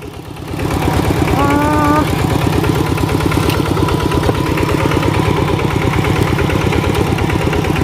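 A motor vehicle reverses at low speed while soil is dug for a house, its engine chugging in a rapid, even pulse that swells in volume early on and then holds steady nearby.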